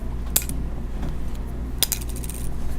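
A cellulose guitar pick dropped onto a hard surface gives two brief, light clicky impacts a second and a half apart, over a steady low background hum.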